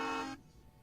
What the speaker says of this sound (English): The horns were drowning you out.